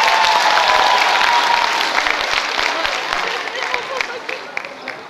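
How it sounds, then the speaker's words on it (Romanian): Audience applause at a school freshmen's ball, a dense sustained clapping crowd that stays loud for the whole span and tapers slightly toward the end, with some voices mixed in. "Dați-le aplauze!"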